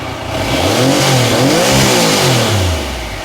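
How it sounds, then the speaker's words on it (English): A Triumph Sprint 900 motorcycle engine revs up from idle and sweeps back down, loud and close, one smooth rise and fall of throttle with no voices. "So if I now try and rev it,"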